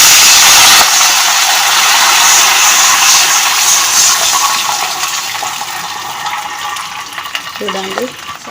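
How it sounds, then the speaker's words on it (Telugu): Water pours into a hot pan of fried peanuts with a loud, rushing burst of hiss and steam that fills the space, then slowly eases into a quieter bubbling simmer. "ఇందులో వాటర్ వేసేసుకుందాం."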